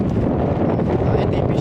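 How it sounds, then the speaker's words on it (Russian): Wind gusting around an outside ladder leading up to the roof of an old automated warehouse at the ZiL plant, a steady broadband roar and buffeting close to the microphone with no clear breaks. "опять ветер дует, так что сори"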